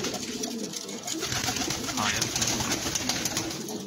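Pigeons coo softly amid a busy outdoor wash of birdsong and background noise, with a faint voice now and then.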